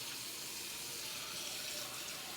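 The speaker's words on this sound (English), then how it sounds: "we're gonna put some water in here" Tap water pours steadily into a bowl of batter, a continuous even hiss and splash that stays close and unchanging for the whole stretch with no voices.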